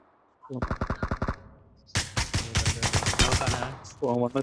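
Rapid bursts of automatic gunfire crackle in quick, evenly spaced shots, with a brief pause, then longer sustained fire and a final short burst.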